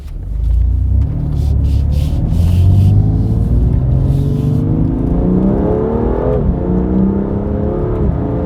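A BMW F87 M2 Competition, running a full bolt-on setup, drives hard through corners: a loud, steady engine roar that climbs and swells in pitch through repeated downshifts and acceleration.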